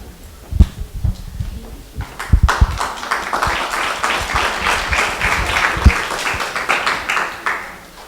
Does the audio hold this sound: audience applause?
yes